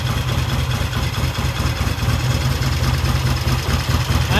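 An old 1968 Triumph T100 or 1974 Norton motorcycle engine, running for the first time in years on fresh gas and a fresh battery, rumbles steadily and loudly nearby with a continuous throbbing idle.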